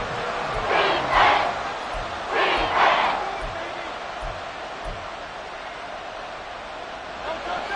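A football stadium crowd roars in two loud surging swells during an NFL game between the Falcons and the Eagles, then settles into a steady, heavy crowd din.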